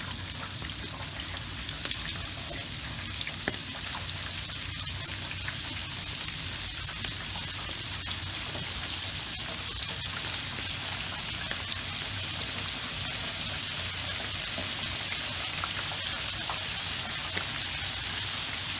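Salt and pepper squid deep frying in a basket of hot oil, a dense, steady crackling sizzle with scattered pops, continuous and fairly loud with no talk.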